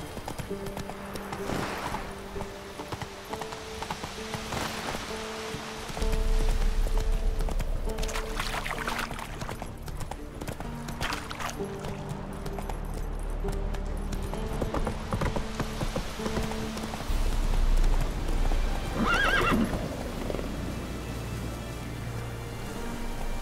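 Roach the horse galloping in The Witcher 3, steady rhythmic clip-clop of hooves running on for the whole stretch, with in-game ambience and music underneath.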